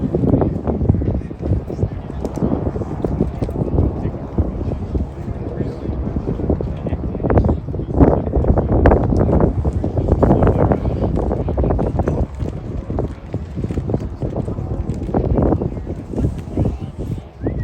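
Piston engines of WWII aircraft droning steadily overhead at an air show weekend in Reading, Pennsylvania, a loud continuous rumble with wind buffeting the microphone throughout.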